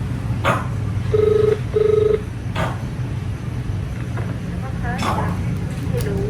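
A telephone ringing during a call, two short electronic ring bursts in quick succession amid background chatter and room noise.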